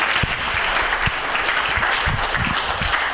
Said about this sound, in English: let's give Nabil a big round of applause because he organizes this thing